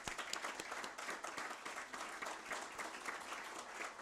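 A conference audience applauds, dense and even clapping from many hands filling the room at a modest, distant level throughout.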